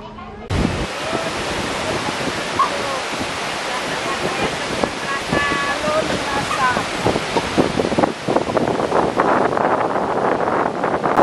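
The Telun Berasap waterfall in Indonesia roars constantly with rushing, falling water, broad and loud, with faint voices and footsteps mixed in.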